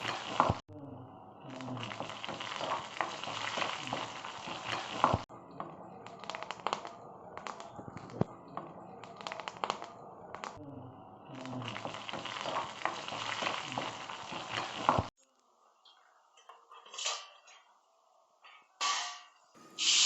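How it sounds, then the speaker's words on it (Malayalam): Onions frying in a pan with dried red chili and curry leaves, crackling and sizzling loudly in long bursts, then dropping to quieter, intermittent sounds from the pan. "ഇനി ഈ മൂത്ത് വരുന്ന ഉള്ളിയിലേക്ക് നമുക്ക് കൊല്ലമുളകും ഈ വേപ്പിലയും ചേർത്ത് നമുക്കൊന്ന് ശരിക്കൊന്ന് മൂപ്പിച്ചെടുക്കാം"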